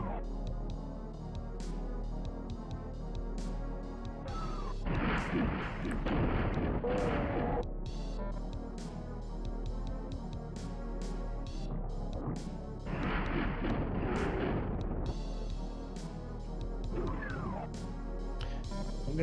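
Rocket launcher explosions from the Super Nintendo version of Doom, with loud bursts of blast noise around five and thirteen seconds over continuous game music and repeated sharp impacts.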